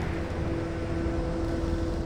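Steady droning engine of a hot-air or propeller aircraft in Red Dead Redemption 2, a constant low hum with a fixed tone running unbroken and fairly loud, no voices over it.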